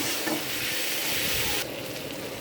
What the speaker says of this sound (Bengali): প্রথমে তেল দিয়েছি তেল পাঁচফোড়ন কোনো লঙ্কা আদা পেঁয়াজ রসুন টমেটো সব রকম দিয়ে সব কিছু দিয়ে ভেজে নিচ্ছি